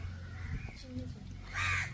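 A crow caws loudly near the end, beside a village riverside cooking spot where river fish are being prepared, with people talking throughout and a low steady hum underneath.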